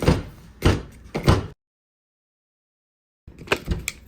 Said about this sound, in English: take the sledgehammer and you really gotta beat it down so it's hard